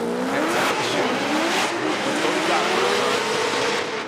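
A Nissan S15 drift car on Falken tires with field suspension drifts hard, its loud engine revving and wailing in wavering pitch. Tire squeal and rushing noise blend in continuously, and a commentator talks underneath.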